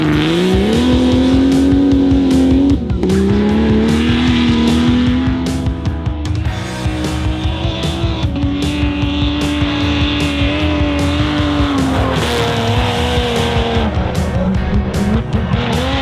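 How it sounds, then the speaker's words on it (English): A pro off-road racing buggy engine roars loudly and continuously nearby, its pitch rising and falling as it revs and shifts while driving fast. "We are out here testing our new sponsored pro buggy."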